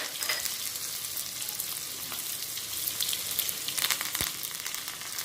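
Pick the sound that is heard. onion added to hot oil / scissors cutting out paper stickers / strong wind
onion added to hot oil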